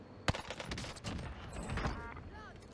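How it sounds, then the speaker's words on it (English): Owen gun fired without a barrel attachment in a video game, a sharp opening shot followed by rapid bursts of automatic fire at close range, with a voice speaking amid the shots. "Owen gun from 10 meters with no barrel."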